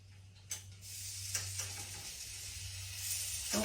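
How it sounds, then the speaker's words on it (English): Two strips of bacon fry in a pan for a sandwich, giving a steady close sizzle with a few sharper pops and crackles, heard alone with a low hum underneath. "I'm gonna cook me 2 pieces of bacon right here to go on my sandwich."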